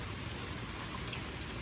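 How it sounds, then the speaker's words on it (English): Steady rain falls during a rainy season in the American South, a dense even hiss of drops on surfaces with no pauses and no voices. "It's raining again, or should I say still raining."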